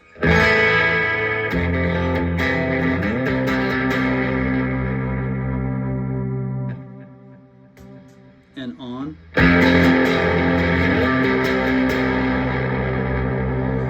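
Distorted electric guitar chords through an Electro-Harmonix Deluxe Memory Man analog delay pedal ring out with echoing, hissy repeats trailing behind, pause into a brief dip, then return loudly; a voice speaks briefly in the gap.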